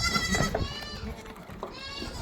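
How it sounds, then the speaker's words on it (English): Goats bleat loudly and close by on a goat farm as the herd is moved up to graze. Several overlapping calls sound over steady outdoor noise, with a quieter stretch in the middle. "So you can enjoy these goats moving up, because we are taking them for another session"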